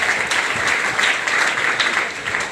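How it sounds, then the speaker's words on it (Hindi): An audience at an IMC business plan meeting in Samastipur applauds loudly, a dense, continuous patter of many hands clapping close by with no talking over it. "नहीं तो एक जोरदार ताली इसके लिए"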